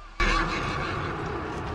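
A horse whinnies loudly in a battle scene from the film The Patriot, a sharp neigh bursting in after a brief quiet and trailing into noisy combat din.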